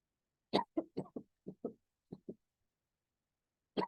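A woman coughs in a quick burst of several short, close coughs, then falls quiet before one more cough at the end.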